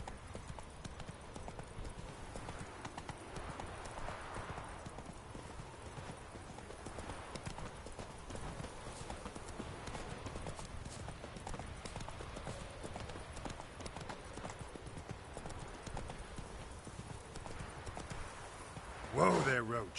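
Roach the horse's hooves clip-clop in a steady, close walking rhythm through a video game scene, with low ambient rumble and a brief louder clatter near the end.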